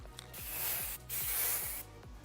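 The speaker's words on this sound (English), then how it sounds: "I lazily spray a cute little pink fish" Spray paint hisses from a can in the video game Love and Deepspace, two long loud bursts separated by a short break, heard alone over a soft rhythmic game background.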